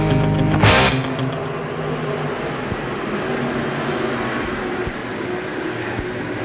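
Midwest modified race cars roar together at Cedar Lake Speedway as an eight-lap main starts, a steady broadband engine wash from a distance after a short loud burst at the outset.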